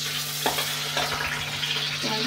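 Onions frying in a pan sizzle steadily with a few louder bursts as they are stirred, close and continuous, with no talking.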